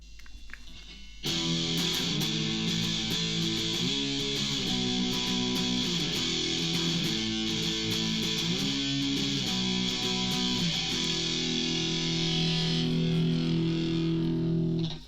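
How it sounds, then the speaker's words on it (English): Distorted electric guitar plays power chord riffs through an effects unit, a steady loud run of chugging chord changes with sustained crunchy tone for about fourteen seconds after a brief quiet start. "let's just do a quick recap, all of them with distortion on"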